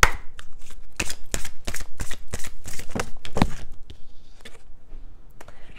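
Oracle cards from a witches' wisdom deck being shuffled by hand, a quick run of crisp riffling flutters and slaps that stops short, close and fairly loud, with no talking.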